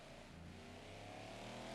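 Race car engine in a racing video game on the Daytona road course, a faint, continuous droning whine that builds slightly in level toward the end, alone without talk.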